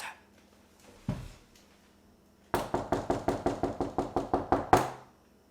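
Knocking on a wooden door, first a couple of isolated raps, then a quick run of about ten sharp, evenly spaced knocks up close, ending on a louder final blow.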